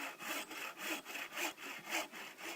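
A hand saw cuts through wood resting on a sawbuck, with about nine even back-and-forth rasping strokes in a steady rhythm, close and moderately quiet.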